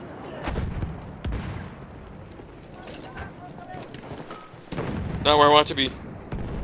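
Machine gun fire in the Battlefield 1 video game, rapid bursts and blasts over busy battlefield noise, with people talking throughout.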